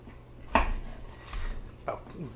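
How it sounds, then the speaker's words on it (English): A knife chops a peeled carrot into roughly quarter-inch sticks on a cutting board. Three sharp, separate knocks sound close by against a quiet kitchen background. "you want to start by peeling and then chopping it into sticks"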